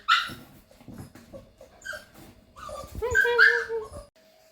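Close, high-pitched whimpers and short yips from a two-month-old puppy, rising into a louder whiny bark near the end.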